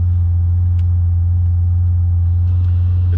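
A 1974 Porsche 911's air-cooled flat-six idles steadily after a cold start, held up on the hand throttle, a loud constant low rumble with an even, unbroken drone close by.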